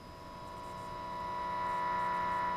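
A steady electronic tone from a signal generator, heard through a signal tracer, hums alone, a pure whine with faint harmonics that gradually swells louder over a few seconds against light background noise.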